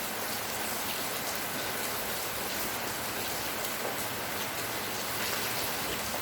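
Steady, dense rainfall hissing on surfaces, a constant wash of drops close by with no pauses and no voices.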